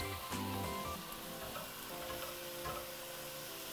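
Green chile and chopped Roma tomatoes sizzle steadily as they are stirred and fried in a pan, a loud continuous crackle with scraping from the mixing and no talking.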